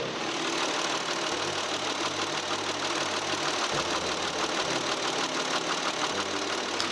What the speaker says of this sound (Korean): 자 마지막으로 엔진 소리 한번 들려드릴게요